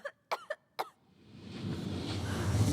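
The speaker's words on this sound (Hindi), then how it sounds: "खांसी को थोड़ा कंट्रोल करो ना प्लीज" A woman coughs three times in quick bursts in a Hindi-dubbed horror film, then a rising hiss of background noise takes over.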